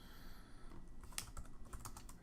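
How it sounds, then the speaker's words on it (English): Fingers type on a computer keyboard at a desk, producing a quick, irregular run of light key clicks that stays fairly quiet and close, with no talking. "I can just go ahead and start typing"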